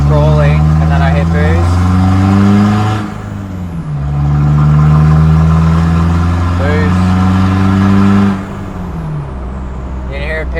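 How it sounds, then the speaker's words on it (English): A Mazda BT-50 diesel fitted with a new turbo revs up and hits boost, the engine note climbing and dropping in repeated pulls from inside the cab, loud and steady, with someone talking over it. "You can hear it pick up revs quicker and easier."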